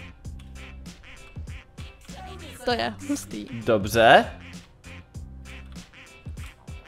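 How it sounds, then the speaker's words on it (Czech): Cartoonish duck quacks from ducks falling in a Roblox elevator game, popping up in a brief loud cluster midway and mixed with two people chatting excitedly in Czech. "A kdo by nechtěl, aby padaly kachničky?"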